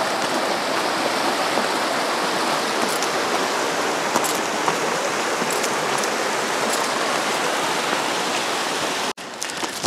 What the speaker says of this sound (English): Crossing the creek again